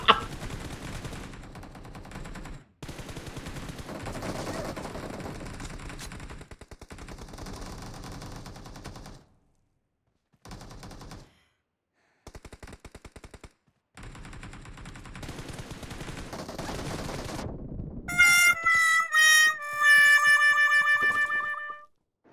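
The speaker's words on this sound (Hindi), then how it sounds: "मैं अंधाधुंध गोली चलाना चालू कर देता हूँ" Bursts of gunfire from a shooting video game during a team deathmatch, with rapid volleys broken by short pauses and near-silent gaps, ending in a loud run of repeated, ringing shots with no talk.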